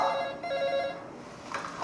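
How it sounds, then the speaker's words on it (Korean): An office telephone in a police station rings in a Korean crime film scene, giving a bright electronic trill heard clearly over a low background. "지금 뭐 이게 사무실에 지금 전화기가 이렇게 울리는데"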